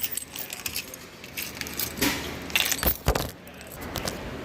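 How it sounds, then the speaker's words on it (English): Car keys for a 2007 GXP jangle and clink near the mic in several bursts, picked up and shaken around, with faint handling noise between. "let's grab the keys"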